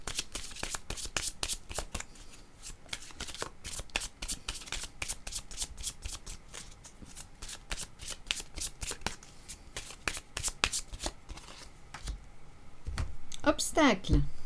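Oracle cards being shuffled by hand: a rapid, crisp run of riffling flicks close to the listener, ending with a few softer taps as the deck settles.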